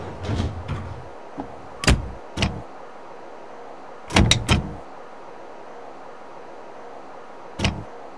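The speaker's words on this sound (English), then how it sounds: "Doors closing." Chicago Brown Line train doors sliding and thumping shut in the Railfan video game on PS3, a few sharp knocks and clunks separated by quiet gaps, with no talk.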